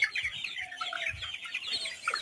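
Chickens on a poultry farm raised for sale, at about 650 grams each, cluck and chirp continuously in a busy, fairly quiet chorus, with several birds heard at once and no talking.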